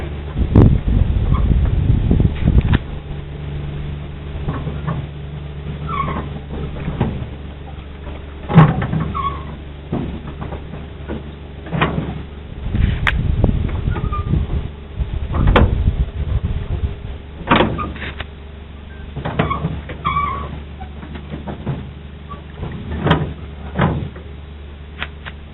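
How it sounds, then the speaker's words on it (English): Faint, distant motorboat engine drone on the water, a steady low hum running throughout beneath scattered nearby knocks, clicks and occasional bird calls. "You hear that motorboat?"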